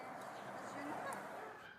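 Dogs barking and yipping in a noisy, echoing room at an animal shelter, mixed with a steady wash of background chatter and commotion.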